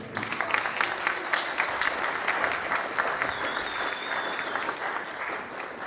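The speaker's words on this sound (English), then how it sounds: "Give them a round of applause for that." An audience at a high school pitch night applauds steadily and loudly for several seconds, a dense wash of clapping from a full room, with a faint high whistle-like tone drifting through.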